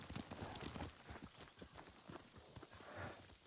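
Horse hooves clip-clop steadily in the samurai game Ghost of Tsushima, a close, continuous run of quick beats with faint ambient game sound around them.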